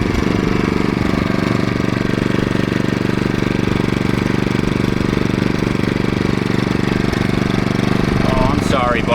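WEN portable generator with its exhaust aimed toward the listener, engine running close and loud in a steady, rough drone throughout, with no change in pace.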